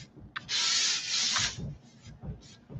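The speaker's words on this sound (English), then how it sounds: "I'm going to bring my sandpaper around just to kind of smooth everything out a little bit more." Sandpaper scrubs across painted wood furniture in a close, hissing burst lasting about a second, followed by a few shorter, softer rubbing strokes.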